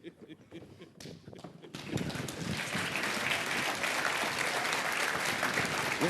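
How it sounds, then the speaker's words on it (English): An audience bursts into sustained applause after a few scattered claps, a dense, loud wash of clapping that continues steadily to the end. "Let's give a round of applause again."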